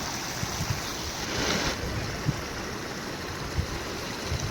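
River water from heavy rain pours over a check dam, a steady, close rushing wash with a brief surge midway and a few small splashes.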